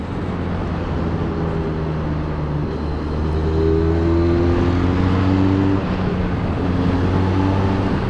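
A Harley-Davidson X500 motorcycle engine runs steadily while riding, a loud continuous drone with rising and falling pitch sweeps as it accelerates out of corners, alone without talk.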